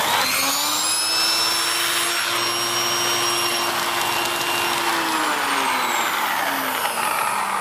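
A Dyson Big Ball Animal (CY23, UK model) vacuum cleaner runs steadily with a turbo tool fitted on an extension hose, giving a loud, continuous motor whine and rushing airflow with a slight pitch dip near the end.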